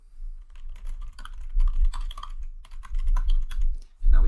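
A username and password typed on a computer keyboard, a close, fairly loud run of quick irregular key clicks with a brief pause partway through.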